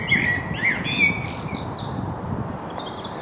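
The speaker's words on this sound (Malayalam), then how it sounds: "ഇതിനകത്ത് ഫുള്ള് കിളികളും കാര്യങ്ങളൊക്കെയാണ്." Several birds chirp and tweet in a city park, with bright, short calls repeating over a soft, steady background murmur.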